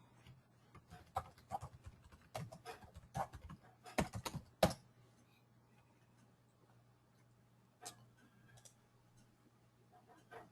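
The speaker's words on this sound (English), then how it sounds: "I'll go ahead and write that into the chat here." Bursts of typing on a computer keyboard as a message is entered into a chat, irregular clusters of key clicks over a low steady hum, then sparser taps and quiet pauses.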